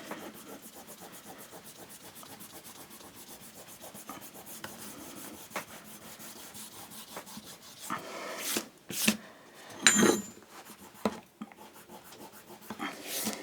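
An eraser rubbed over a fine diamond sharpening plate to lift dirt: steady, soft scrubbing strokes close by, rising into a few louder, harsher rubs near the end, with no voices.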